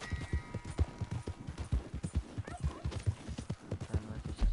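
Horse hooves clip-clop in a steady rhythm in the video game Red Dead Redemption 2, with a brief whinny mixed into the fairly quiet, busy game soundscape.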